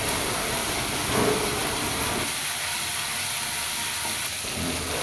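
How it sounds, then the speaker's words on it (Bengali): Ginger, turmeric, garlic and salt sauté in hot oil for khichuri, giving a continuous hissing sizzle with faint rattling, steady and unbroken, with no voices. "প্রথমে আদা, হলুদ, রসুন, লবণ সবগুলো মশলা তেলের মধ্যে ভালোভাবে কষিয়ে নিলাম"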